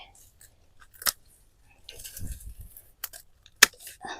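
Pruning shears snip back an overgrown common salvia in a garden, with two sharp isolated cuts about two and a half seconds apart and a third clip later, alongside soft rustling of stems and foliage between cuts.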